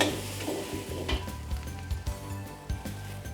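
Garlic, ginger, onion and crushed chili fry in a pan with a splash of sauce, giving a steady close sizzle with stirring scrapes and light clinks of utensils against the pan.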